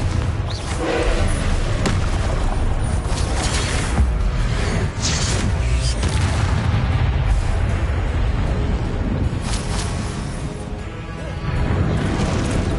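Confringo fire blast spells exploding in Hogwarts Legacy, a dense, continuous barrage of loud booms and crashing blasts that rumble without pause.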